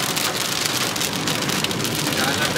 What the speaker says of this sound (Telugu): చాలా పెద్ద వర్షమే పడుతుంది.